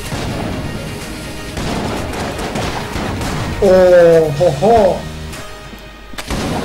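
Cannon fire in the video game Enter the Gungeon, booming in-game shots and game effects under a player's excited talk and exclamations, with a louder burst of blasts partway through.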